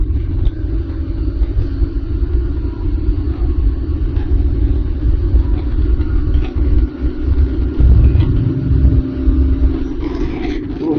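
A Bajaj NS 200 motorcycle rides fast above 100 with a wobble, a steady close engine rumble mixed with wind noise that swells briefly without easing.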